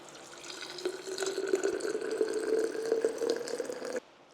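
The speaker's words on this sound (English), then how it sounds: "adding hot water around 90 degrees, not boiling" Hot water around 90 degrees pours over rose petals in a container for sherbet, a steady trickling splash at close range that builds slightly and stops abruptly near the end.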